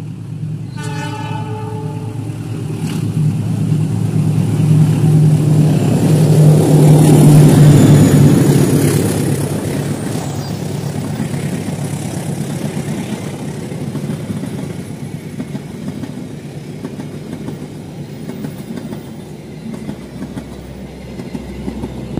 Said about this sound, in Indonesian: itu dia kereta api Pangandaran sudah melintas